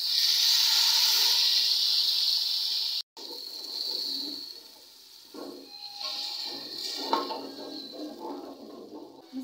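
Bombay biryani masala dissolved in water sizzles and hisses loudly in a hot pan as it cooks, starting as a bright steady fizz, then softening into bubbling crackles and pops.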